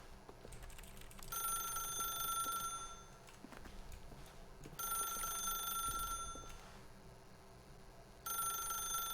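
A telephone rings in the video game The Stanley Parable. Three separate bursts of electronic bell ringing, each a couple of seconds long, sound over a faint background hum.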